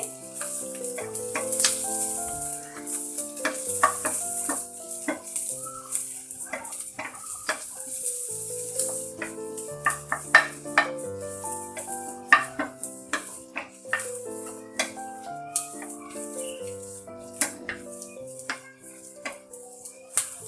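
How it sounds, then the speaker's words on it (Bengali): Green chillies and onion fry in mustard oil in a pan with a steady sizzle, while a utensil scrapes and clatters against the pan in frequent quick strokes, close up, with no voices. "কাঁচামরিচ এবং পেঁয়াজটা আমি ভালো করে ভেজে নিচ্ছি।"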